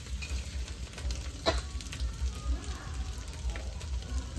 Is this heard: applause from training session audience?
no